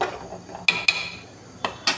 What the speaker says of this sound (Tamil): ஓகே, இப்போ மூடி வச்சுருவோம்.